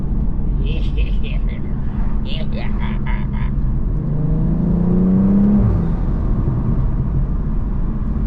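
A BMW M240i's engine revs up as the car accelerates through an underpass, its rising tone building in the second half after a brief stretch of talk inside the cabin over steady road noise.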